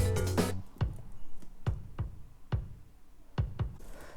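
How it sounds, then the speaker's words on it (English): Punchy kick drum hits repeat in a steady pattern, some doubled, after a brief tonal burst at the start; dry and close with quiet gaps between. "We have the main kick as well,"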